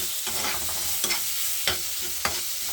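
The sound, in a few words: sautéing grated tomato in a pan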